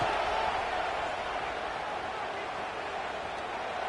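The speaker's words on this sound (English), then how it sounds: "this crowd is fired up. Listen to this noise here" A college football stadium crowd at a USC versus Texas A&M game roars early in the contest, a loud, dense wash of cheering that holds steady, fading only slightly over a few seconds.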